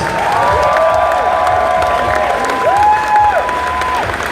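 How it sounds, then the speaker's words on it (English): An audience at a Danny Trejo Q&A at Montreal Comiccon 2018 applauds and cheers, a brief, loud burst of clapping with whoops and voices rising above it. "Give yourselves a round of applause."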